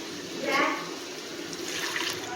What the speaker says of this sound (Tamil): அவ்வளோதாங்க, தண்ணி சேர்த்தாச்சு